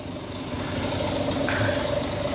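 A 2017 Scania K410EB Interlink bus with a Euro 6 Scania engine idles with a steady, even low rumble and a faint mechanical hum, close by and with no talk over it.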